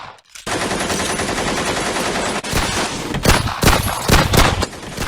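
Heavy automatic gunfire from a suspect's weapon in a crime audio drama, a loud sustained burst followed by several sharp, separated shots with no talking.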